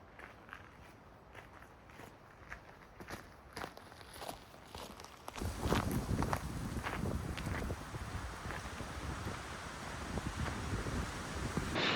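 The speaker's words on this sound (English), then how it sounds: "It is windy too." Wind gusting at the Buckeye Trailhead in Arkansas, a soft breezy rush at first that swells into loud, steady buffeting across the microphone, with faint footsteps crunching underneath.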